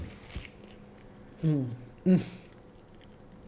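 Someone bites into a fish burger served with crinkle-cut fries and chews. Two short, close, crunchy bite-and-chew bursts stand out against a quiet room.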